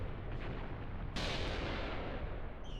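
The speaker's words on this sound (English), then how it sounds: "A lot of explosions." Heavy explosions rumble through a battlefield scene in the war video game Mius Front, a dense roar that jumps into a louder, sharper blast about midway and keeps booming without pause.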